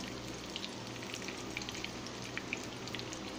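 Eggplant frying in olive oil, a quiet steady sizzle with scattered small pops and crackles throughout, close and alone without talk.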